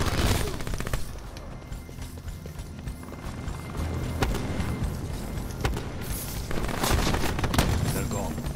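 Dense, rapid gunfire in Call of Duty: Black Ops 4 team deathmatch, sustained volleys with louder bursts near the start and end over a constant battle din, with faint game voice lines mixed in.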